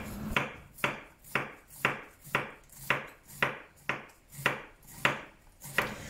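A knife slicing a cabbage into thin slices on a board, about eleven crisp, evenly spaced cuts in a steady rhythm, each a sharp crunch with a short tail, close and clear with no talking.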